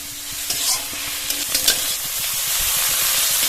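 Shrimp frying in a pan with salt and turmeric for a Bengali chorchori, a steady close hiss and sizzle with a few crackles and light stirring scrapes.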